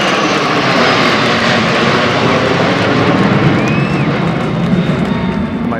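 A four-ship formation of F-16 fighter jets flies over a town, producing a loud, broad roaring rush that fills the air steadily and swells slightly as the aircraft pass overhead.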